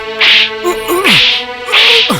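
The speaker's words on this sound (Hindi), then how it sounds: "चाबुक क्यों?" Three sharp whip lashes crack at roughly even intervals in a Hindi romantic film scene, each a bright burst followed by a loud voice crying out or groaning between strikes.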